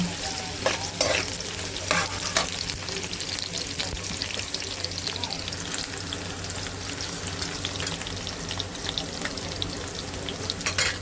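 Onions sizzle steadily in hot oil, a dense crackling hiss close to the pan, with occasional scraping strokes as they are stirred and turned.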